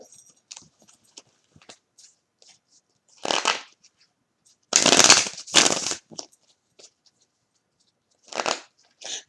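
Tarot cards handled with a few light flicks, then several louder riffles in short bursts separated by near silence, close to the listener.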